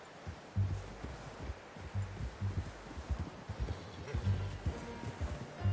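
Horse hooves in a PS4 video game plod in a steady, rhythmic clopping pattern of low thumps, sitting under a continuous bed of ambient outdoor noise throughout.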